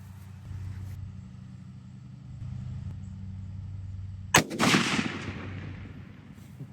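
A single rifle shot fired outdoors during a comparison of hunting calibers for beginners: one loud, sharp crack with a short ringing decay, following a quiet low rumble, with no talk.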